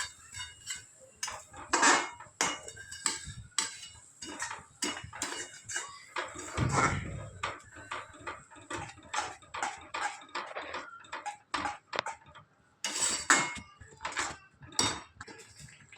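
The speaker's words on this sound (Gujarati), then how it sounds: "ગરમ દૂધ નાખવાનું। દૂધ નાખ્યા પછી હલાવી જવાનું।" Sweet vermicelli shira stirred in a pan after hot milk is poured in, giving repeated close scraping and clinking strokes of a spoon against the pan in an uneven rhythm, with a brief duller bubbling swell midway.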